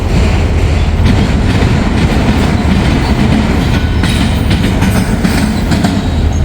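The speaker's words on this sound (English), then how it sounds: "there goes that train way down there" A train rolls past on the rails with a loud, steady rumble and rhythmic clattering wheels, continuous throughout with no voices.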